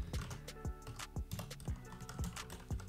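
Steady clicking of a computer keyboard as someone types code, with quick irregular keystrokes close by and no speech.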